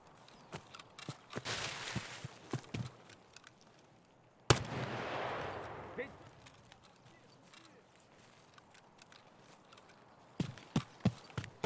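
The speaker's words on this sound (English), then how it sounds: "That is a lot of shooting." Gunfire in the Escape from Tarkov video game, mostly distant and muffled cracks scattered across the stretch with one sharp nearer shot and a few closing bursts, faint footsteps in between, and a player's voice talking.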